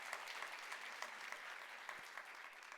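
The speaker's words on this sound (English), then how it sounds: "So give that a round of applause, everyone." Audience applause fills the room at a World Food Day event on food and health, a steady dense patter of many clapping hands sustained evenly, moderately distant, with no talk over it.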